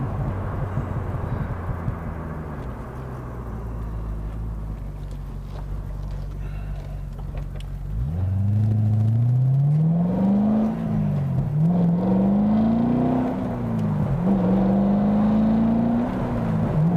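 A 2008 Chevrolet Corvette Convertible cruising: a steady low engine drone that rises around the middle into a louder, wavering engine note as the car speeds up and shifts, with no talking.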